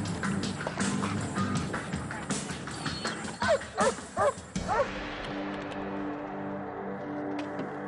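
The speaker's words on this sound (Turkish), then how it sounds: "Bir köpek arabayı araştırıyor." A police dog searches a car, with several sharp barks and yips close by amid rustling and handling noises, plus a few quick clattering thumps before things settle into a quieter background hum.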